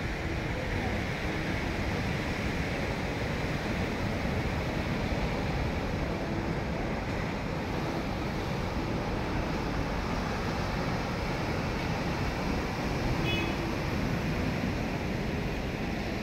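Sea waves at a beach in Urbiztondo, San Juan, La Union, form a steady, broad wash of surf mixed with wind noise, continuous and fairly loud, with no clear speech.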